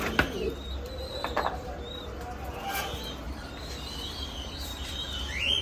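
Soft fancy pigeon coos with a few light chirps, a little distance away, over a steady low background hum.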